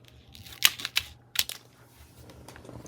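Paper cut down the middle for a junk journal, a few sharp close snips and clicks in quick succession against a quiet background.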